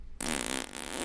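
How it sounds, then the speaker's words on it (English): A random fart sound effect from a soundboard button plays after a brief silence, a loud, buzzy, sputtering blast lasting about a second, alone. "You also have your random fart sound button"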